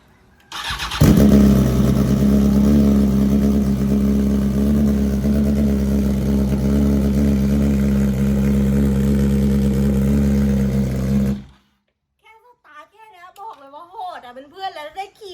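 A car engine roars and revs loudly for about ten seconds, a deep, heavy exhaust drone, then stops abruptly, followed by people talking.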